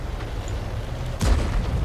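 A single cannon warning shot in the video game Manticore, one muffled boom partway through over a steady low background rumble.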